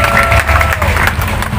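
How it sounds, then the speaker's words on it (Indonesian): Applause and cheering from a crowd at a political rally, a regent candidacy declaration in Serang, loud and dense throughout the short burst with some voices mixed in. "Tepuk tangan buat kita semua."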